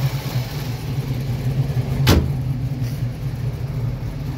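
A 1966 Ford Fairlane 500 two-door hardtop idling steadily at moderate volume, a low even engine hum throughout with a brief sharp click or knock midway.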